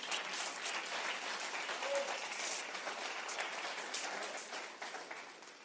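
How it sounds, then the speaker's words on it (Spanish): Audience applause at a local marketing club event, a steady broadband patter of many hands holding level for several seconds, fairly soft and distant-sounding, with no voices over it. "Un aplauso para Benji."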